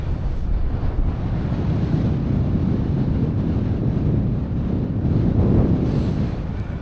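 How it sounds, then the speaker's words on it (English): Strong wind roars across a snowy winter mountain top on Stybarrow Dodd, a steady, loud, close buffeting rumble hitting the microphone for the whole stretch with no voices. "This would have been An absolute stunning morning if it weren't for that wind."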